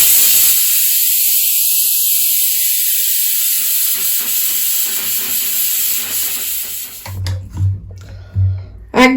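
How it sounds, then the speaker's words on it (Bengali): A pressure cooker full of cauliflower khichuri lets off a loud, sustained steam hiss and high whistle that fades away, followed by clattering handling and a voice speaking. "ঢাকাটা দিয়ে হুইসেল আসতে দেবো"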